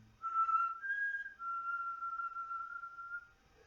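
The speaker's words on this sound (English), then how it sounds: "He whistled a tune to the window" A person whistles a short tune, clear and alone: a few sustained notes stepping up, then a long held note, quiet with no other sound.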